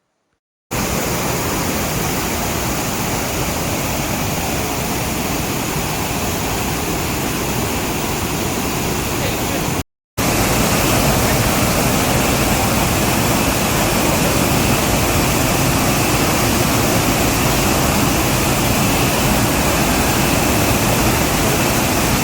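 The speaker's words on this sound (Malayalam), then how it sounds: "ഈ ഒന്നാമത്തെ വെള്ളച്ചാട്ടത്തിൻ്റെ ശബ്ദം നിങ്ങൾക്ക് നേരിട്ട് കേൾപ്പിച്ചു തരാം." Loud, steady roar of the first waterfall at Banasura Meenmutty Falls, a dense continuous rush of falling water heard alone, with one brief break partway through.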